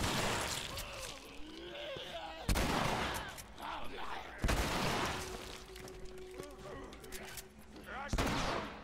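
Shotgun blasts in The Last of Us, three or four sharp, loud booms spaced a couple of seconds apart amid game noise, with someone speaking between shots.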